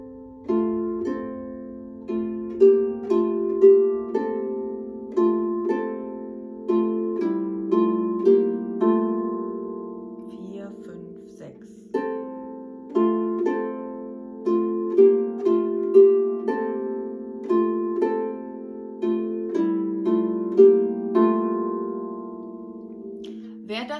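Solo harp plays passage C of a piece, plucked notes ringing in clear phrases with chords and low bass tones, each attack decaying smoothly, close and moderately loud without any voice.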